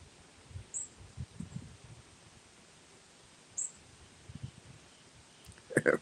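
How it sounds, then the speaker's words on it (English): Two short, high, sharp chirps from a northern cardinal on a deck, spaced a few seconds apart, over quiet rustling and low outdoor noise. "That was a cardinal. Just flew in on the deck and chirped at me."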